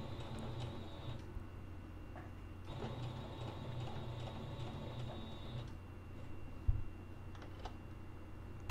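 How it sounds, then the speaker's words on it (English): Sewing machine stitching back and forth across fabric and elastic for a face mask, a steady low mechanical whir close by with short pauses and a faint thump, no talking. "turn it so you can sew diagonally across that piece of elastic"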